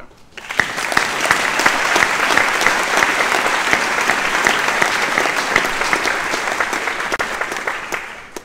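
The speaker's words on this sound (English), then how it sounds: "How about a round of applause for all the parents out there?" Sustained audience applause at a 2018 graduation commencement, given for the parents; dense, steady clapping from a large crowd that starts abruptly and holds for about eight seconds before tapering off.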